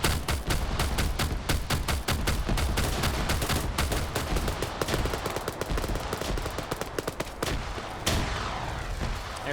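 Rapid bursts of automatic gunfire and single shots in the military shooter Operation Flashpoint, Russia versus NATO, crackling loud and dense for several seconds, then thinning into scattered shots near the end.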